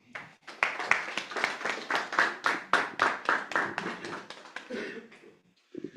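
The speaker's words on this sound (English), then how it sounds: "A round of applause again for Dr. Meseka Silvestro." A small audience claps for a few seconds at the end of a morning outreach lecture for maize farmers, giving quick, close, sparse handclaps that fade out.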